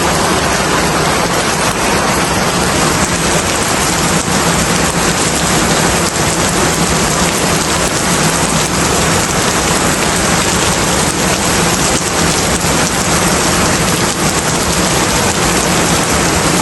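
Heavy rain pours down steadily and loudly, a dense continuous hiss of drops on surfaces with no pauses and no voices throughout.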